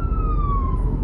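An ambulance siren sweeps past close by on the road, a loud, steady wailing tone that slides downward in pitch as the vehicle passes, over rumbling traffic.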